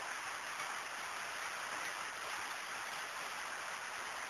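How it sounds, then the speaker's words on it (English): Used engine oil drains from a loosened oil filter during an oil change, giving a continuous, even trickling and splashing hiss that holds steady for a few seconds. "Notice the oil's draining out of the filter."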